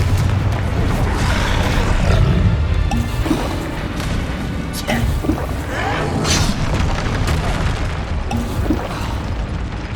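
Explosive spell blasts in the Hogwarts Legacy video game, a dense run of heavy booms and crashing impacts over a constant rumbling bed, loud and close, with a character's voice shouting incantations now and then.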